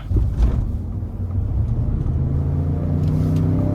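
A 2022 Ford Expedition Limited with the 3.5 EcoBoost engine accelerates hard in rear-wheel drive mode. Heard from inside the cabin, a steady, loud low engine drone and road rumble build and hold throughout.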